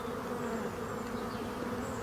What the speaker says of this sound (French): ça c'est des ruches en bonne santé, vous voyez. Donc elles sont toutes en train de sortir